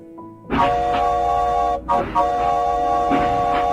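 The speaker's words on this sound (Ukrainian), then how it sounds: "це звук потягу" A train rumbles past with steady tonal hum and clattering, a brief dip in the middle before the loud mechanical drone resumes.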